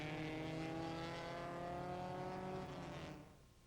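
Lancia-Ferrari Formula One cars of 1957 roar past at the Nürburgring, a loud, dense engine howl with strong steady harmonics that holds for a few seconds before fading as the cars move away.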